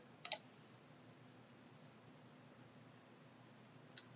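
Two faint computer mouse clicks, one near the start and one near the end, each a short sharp tick against a quiet room hum.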